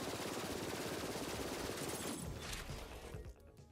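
Video game gunfire, a rapid fusillade of machine-gun shots pouring out loud and steady before tapering off near the end.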